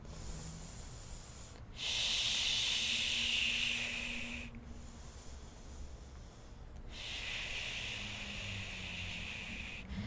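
Slow, deep yoga breaths, two long airy hissing exhales with a quiet pause between, soft and close in a calm outdoor backyard.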